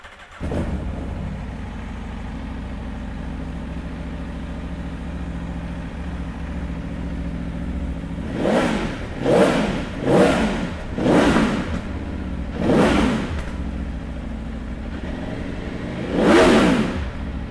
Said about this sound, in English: So let's fire this one up and have a listen.